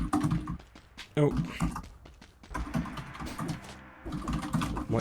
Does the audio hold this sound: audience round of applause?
no